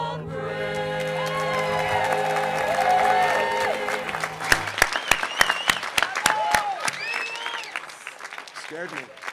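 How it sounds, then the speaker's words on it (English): A graduation audience breaks into loud, sustained applause and cheering after the national anthem, the clapping swelling over the last sung notes and then continuing as crisp, scattered claps. "Join me in another round of applause for the students singing the national anthem live for the first time all year."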